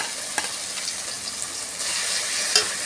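Spice paste of poppy seed and cashew-melon seed paste sizzles steadily in a hot pan while being stirred, a continuous close frying hiss with faint scraping and no voices.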